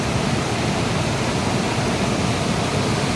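Tagkip Falls roaring as a continuous, loud, broadband rush of falling water with no breaks.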